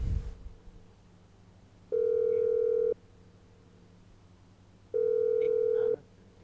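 Phone ringing unanswered in the video game GTA 5, two steady electronic ring bursts about a second long each, spaced three seconds apart over a quiet hum, with no talk.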